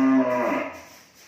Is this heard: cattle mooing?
yes